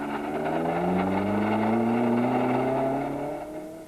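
A Volkswagen Golf rally car engine strains while the car climbs a steep hill in reverse gear during a 1993 Sasol Rally stage, giving a steady loud droning whine that rises slowly in pitch with no speech.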